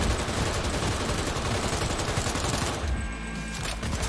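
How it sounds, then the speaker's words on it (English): Dense video game gunfire from a shotgun in Cyberpunk 2077, a loud rapid barrage of overlapping blasts that fill the whole stretch with a brief dip near the end. "Okay, not crazy about this shotgun,"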